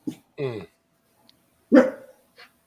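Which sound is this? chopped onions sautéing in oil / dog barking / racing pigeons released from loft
dog barking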